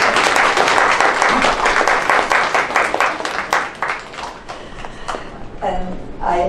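Audience applause at an International Women Award presentation in Toronto, a loud burst of many hands clapping that gradually thins into scattered claps, followed by a voice speaking.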